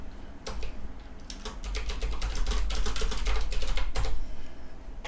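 Keys clatter on a computer keyboard in a quick, uneven run of close, soft clicks that speeds up into a dense burst before trailing off.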